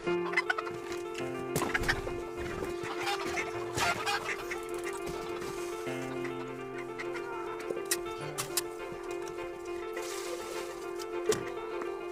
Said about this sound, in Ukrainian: Молоденький півник з теплиці.